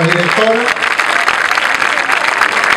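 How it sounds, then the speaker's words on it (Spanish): An outdoor crowd at the Feria de Mataderos street fair applauds, dense loud clapping that fills the whole stretch, with a brief voice heard at the start over it. "Que escuche ella el aplauso para toda la gente que trabaja en la feria"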